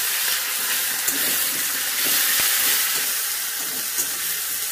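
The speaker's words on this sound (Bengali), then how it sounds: "মশলাটাকে ভালো করে ভেজে নেব" A spice paste of tomato, poppy seed, cumin and ginger frying in oil for a village-style fish curry, a loud, steady hiss of sizzling close by with a few faint pops and clinks, no talking.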